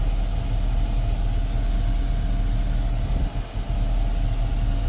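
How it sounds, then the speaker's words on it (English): A Jeep Grand Cherokee Limited idles with its heater, defrost and AC running, a steady low engine hum with a constant fan whir, close and unbroken apart from a brief dip. "My heat's working. My defrost is working. AC's on."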